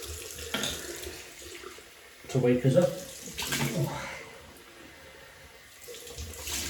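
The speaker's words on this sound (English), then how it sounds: "Right, cold water rinse." Cold tap water runs steadily for a rinse after shaving, splashing close by, while a person talks over it and the flow eases toward the end.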